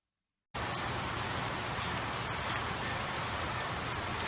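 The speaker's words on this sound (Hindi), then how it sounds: "वे वर्षा, बर्फ या ओले के रूप में पृथ्वी की सतह पर गिरने लगती हैं।" Rain starts after a brief silence and falls steadily, a dense, even patter of drops on a surface that carries on at constant strength, fairly close, with no voices.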